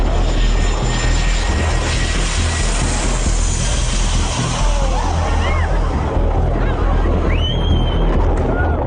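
A loud, steady roar of an airliner landing at very low altitude at Princess Juliana International Airport, Sint Maarten, fills the whole stretch, close and continuous, with faint whistling tones rising near the end.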